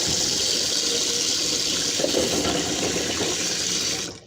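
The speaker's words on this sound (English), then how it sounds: "I usually run water on them for a couple minutes" Cold tap water runs steadily and loudly over eggs in a container for several seconds, then cuts off abruptly at the end.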